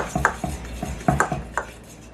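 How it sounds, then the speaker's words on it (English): Dry fork scraping and clinking against a bowl while seasonings are mixed for lemon pepper wings, a few short irregular taps and scrapes close by, no talk. "I'm gonna mix this together using a dry fork"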